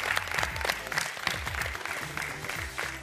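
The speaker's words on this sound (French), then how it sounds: "on peut quand même applaudir bien fort nos joueurs du jour qui ont tout donné sur le terrain" A live audience at a French game show applauds the day's players, with brisk, dense clapping and a few shouts throughout, with a rhythmic musical beat underneath.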